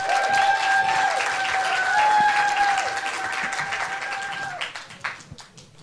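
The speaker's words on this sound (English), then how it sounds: "please keep the applause going for Kelso High School with Tech Speak" Audience applause at the Scottish Youth Poetry Slam regional heat, steady, dense clapping close by with a whistle tone running through it, fading out over the last second.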